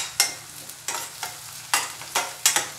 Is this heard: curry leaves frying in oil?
yes